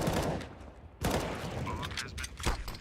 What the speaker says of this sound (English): Quicks, though, with the wall bang on JBA